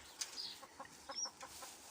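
Chickens and a rooster cluck nearby in short, repeated calls, with a couple of brief higher squawks mixed in.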